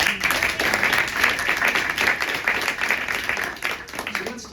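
Audience applause fills a talk with a San Francisco mayoral candidate at Manny's, a steady wash of many hands clapping at moderate loudness that holds for several seconds with no talk over it.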